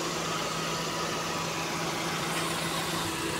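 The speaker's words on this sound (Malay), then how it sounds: "Cantik ah, idling cantik ah." A Proton Saga VVT engine idling steadily, heard close up in a smooth, continuous hum with a constant low drone and no talk over it.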